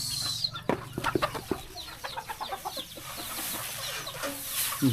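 Chickens cluck in quick, uneven bursts nearby, with a few sharper squawks against a quiet outdoor background, in rural Laos.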